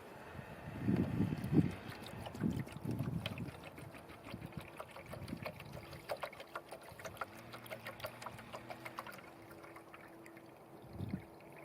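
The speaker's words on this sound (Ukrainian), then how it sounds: "Ставимо поїлку, так, щоб вони могли пролізти, і наливаємо швиденько водичку." Water poured quickly into a feeder set inside a beehive in early spring, a faint trickle and splash with soft handling knocks and bumps over quiet background.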